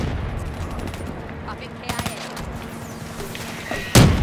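Scattered gunshots in a Call of Duty: Black Ops 3 match over a busy game soundscape, with a few sharp cracks and one loud close shot near the end.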